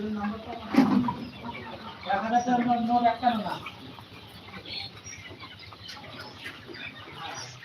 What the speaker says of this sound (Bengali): এখন দুপুরে খাওয়া দাওয়া করছে মুরগিতে